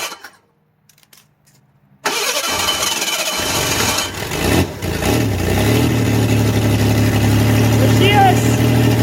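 A burnt-up, busted 1980s Ford Bronco II cranks and catches after a quiet pause, then settles into a steady, loud running drone near the mic, with excited voices shouting over it.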